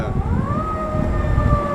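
A fire engine or emergency siren wails from a distance on Music Row in Nashville, Tennessee, its steady rising and falling tone carrying over a low street rumble without any talking.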